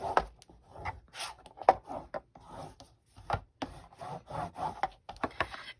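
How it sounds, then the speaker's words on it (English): A burnishing tool rubs paper flat onto chipboard in a series of short, scraping, brushing strokes, close and irregular, with brief quiet gaps between passes. "Smooth that out with our burnishing tool."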